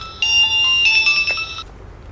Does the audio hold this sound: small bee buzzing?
no